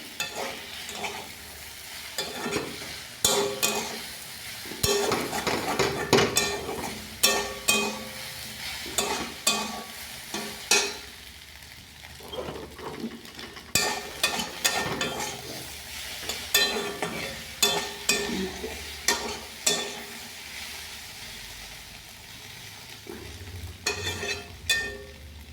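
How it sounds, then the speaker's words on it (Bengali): Egg stirred and fried with mixed vegetables in a pan, with repeated scraping and stirring strokes over a steady close sizzle, in uneven bursts throughout with no talking. "ডিমটাকে ভালো করে এবার মাঝখানে দেখুন এরকম করে নাড়তে নাড়তে ঝুড়ি ভাজা হয়ে যাবে, সুন্দর সবজির সঙ্গে মিশে যাবে।"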